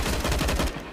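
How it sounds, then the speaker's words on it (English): Rapid SMG fire from a Counter-Strike match on the Inferno map, a fast steady burst of roughly eight close, loud shots that cuts off near the end, with no talk over it. "fires in with the SMG"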